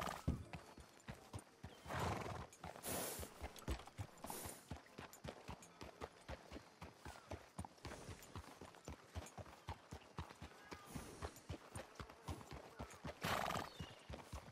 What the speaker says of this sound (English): Ain't often you see a horse like that